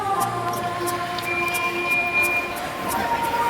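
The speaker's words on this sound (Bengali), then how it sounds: "এখন আমরা এই মেট্রোতে আছি" Inside a Kolkata metro train, a steady rumbling ride carries faint high whines and squeals from the wheels and motors, with soft murmurs from passengers in the carriage.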